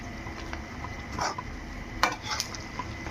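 A spoon stirs ground masala powder into chicken frying in a pan, giving soft scraping and clinks over a low sizzle, with a sharper metallic knock near the end.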